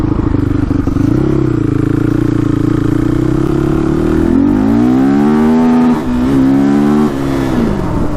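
A Honda TRX450r quad, a worn, cheaply bought machine, revs hard throughout, its engine note sweeping up and bouncing against the rev limiter in repeated stuttering surges, loud and close with no voices.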